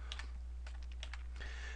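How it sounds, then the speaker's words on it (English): A few quick taps on a computer keyboard's PageDown key, soft and close, in scattered clicks over a quiet background hum. "using PageDown to go frame by frame"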